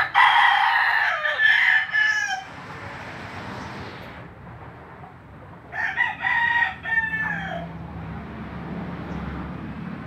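A grey blue-legged gamefowl rooster with a crown crows twice, loud and close, each call rising and falling over a few seconds, with faint background rumble between the crows.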